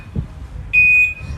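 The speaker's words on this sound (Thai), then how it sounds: "อันนี้เสียงนี้คือเสียงถอยหลังนะทุกคนเสียงนี้คือเป็นเสียงถอยหลังกดนี่นะคะ" An electric scooter gives a single sharp, high reverse warning beep lasting about half a second over low background rumble.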